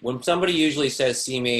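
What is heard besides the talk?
None of the usual background noises is heard.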